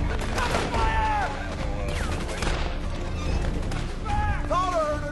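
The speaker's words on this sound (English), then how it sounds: "Lay down some cover fire!" Gunfire rattles through a battle scene from the film Black Hawk Down, bursts and single shots over shouting voices and loud combat clatter, continuous and close throughout.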